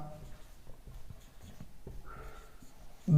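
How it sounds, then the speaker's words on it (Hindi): Pen writing on paper, soft scratchy strokes in an uneven rhythm, close and quiet, with a brief louder sound at the very end. "एक एक नगर का मैं समय लिखता हूं"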